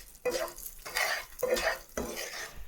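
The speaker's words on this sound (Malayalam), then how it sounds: "എന്നിട്ട് നമ്മൾ ഒരു 1/2 ടീസ്പൂൺ നെയ്യ് കൂടെ അതിലേക്ക് ചേർത്ത് കൊടുത്തിട്ട് വീണ്ടും നമ്മൾ നല്ല പോലെ ഇളക്കി മിക്സ് ആക്കുകയാണ്" A thick mixture of semolina, wheat flour and ghee stirred in a pan, four rhythmic scraping strokes with soft sizzle beneath, close and moderately loud, with no talking.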